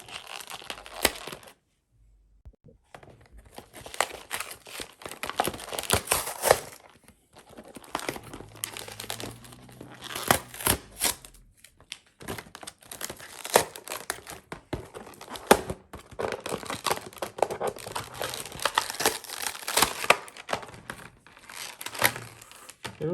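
Hard plastic packaging for smart color LED bulbs is pried and torn open, giving a long stretch of close crinkling, cracking and snapping with short pauses and sharp bursts of louder crunching.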